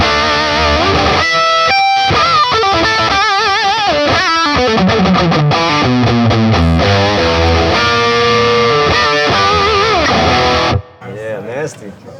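Electric guitar played through a new Marshall amp with a second overdrive stage engaged, distorted and punchy with extra gain, loud sustained chords and melodic runs that stop abruptly near the end, leaving a brief quieter tail.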